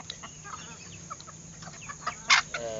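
Soft, scattered clucking from several chickens, faint and intermittent, with one brief louder squawk near the end.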